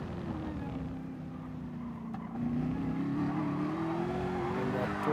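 A Porsche race car in a racing video game on the Sardegna road track howls at high revs, its engine note rising steadily and growing louder partway through, alone without talk.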